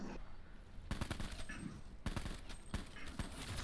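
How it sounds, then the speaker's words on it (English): Black Ops 4 Zombies gunfire, several sharp loud blasts in an irregular sequence over background game noise, with faint voices underneath. "Hey, watch where you shoot that shotgun, WubDub."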